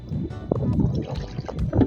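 Kayak paddling down the Vistula river: close, steady splashing and gurgling of paddle strokes in the water, with some wind rumble across the microphone and no talking.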